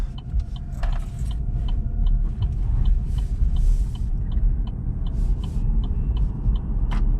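Chevrolet Bolt EV driving and turning left on a road, a steady low rumble of tire and road noise with light rattling clicks throughout, recorded from inside the car.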